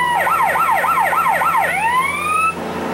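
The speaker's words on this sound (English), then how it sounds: "Here's the siren." A police car siren from the video game Grand Theft Auto San Andreas wails loudly and close, cycling in rapid rising-falling sweeps before gliding into a long rising tone that cuts off abruptly.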